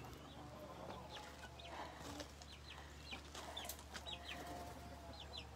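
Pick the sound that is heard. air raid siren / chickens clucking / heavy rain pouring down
chickens clucking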